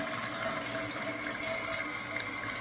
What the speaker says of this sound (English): you flush it